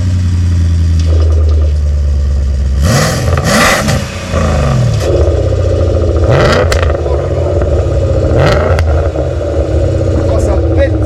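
A BMW 540i E39 with a custom stainless steel exhaust and its valves open revs hard in several loud, close bursts over a deep idle rumble, with brief voices between the revs.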